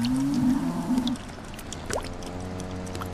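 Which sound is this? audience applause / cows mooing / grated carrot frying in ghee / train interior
cows mooing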